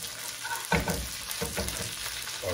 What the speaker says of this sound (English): baste them or smother them with the bourbon butter